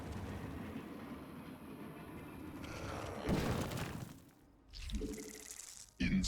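A train rumbles and clatters in the StarCraft II game, a steady low rolling noise with rising clanks and a sharp metallic burst near the end, mixed with other game effects.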